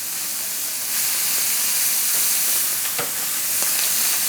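Chanterelle mushrooms with spring onions and garlic sizzling in a frying pan, a steady loud hiss with a few brief sharper crackles and spatters, no talk.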